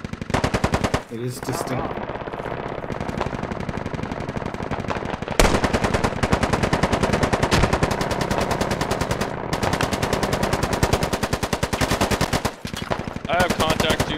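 Sustained rapid machine gun fire in a video game, loud and close, rattling in long continuous bursts with a brief break, while a voice speaks over it.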